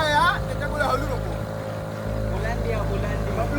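A small rowboat rocks on choppy water with a steady motor-like drone and a low rumble underneath, while voices talk close by.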